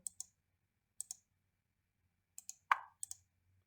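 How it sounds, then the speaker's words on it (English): Computer mouse buttons clicking in a quiet room: several crisp double clicks spaced out, then one louder single click, close and sharp, with no talking. "Left click, right click."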